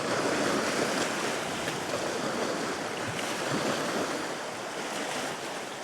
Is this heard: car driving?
no